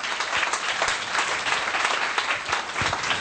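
A church congregation claps together in a dense, steady burst of applause that stays loud and even throughout, with no speech over it.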